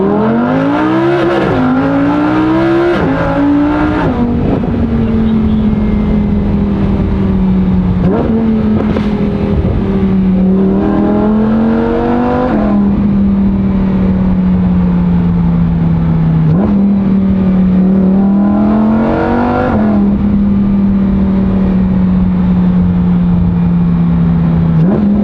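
A 2022 Lamborghini Huracan EVO fitted with a loud Akrapovic titanium exhaust revs hard again and again, each sharp climb in pitch falling back to a steady, loud idle drone, close and alone with no talk.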